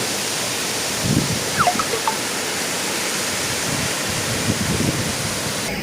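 A waterfall deep in a forest roars as a steady, even wash of falling water, with a few faint bird calls above it.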